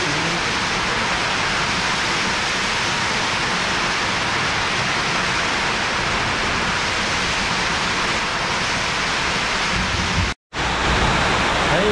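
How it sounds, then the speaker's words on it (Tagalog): A dense, unbroken roar of heavy rain falls during a storm, close and loud, dropping out briefly near the end before resuming; no one speaks. "Grabe, grabe itong ulan na to."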